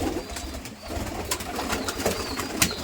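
Pigeons coo steadily indoors in a loft, a soft continuous murmur of overlapping calls with a few sharper bird notes and background noise, no speech.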